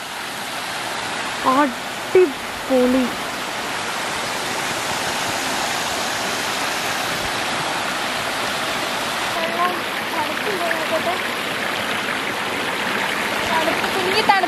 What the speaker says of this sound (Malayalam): വെള്ളച്ചാട്ടം പോലെ ഉണ്ട്, ചെറിയൊരു വെള്ളച്ചാട്ടം.